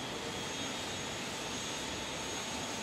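A steady, loud broadband roar of aircraft engines fills an airport apron just after a presidential plane has landed, unbroken and without talk.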